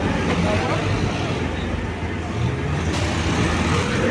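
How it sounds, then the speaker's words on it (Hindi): Tractors in a farmers' convoy heading to Delhi start up and roll off at Dhanaura, a close, steady diesel rumble filling the scene while people talk over it. "ये ट्रैक्टर स्टार्ट हो गए और आगे चले, और ये ट्रैक्टर स्टार्ट हो गए हैं।"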